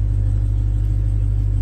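Deep, steady low rumble of a Dodge Hellcat engine as the car creeps forward, a close, loud, even throb with no voices over it.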